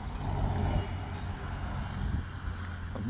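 A bus on a Yorkshire coast road passes nearby with a loud, steady low engine rumble and road roar that swells and then eases over a few seconds.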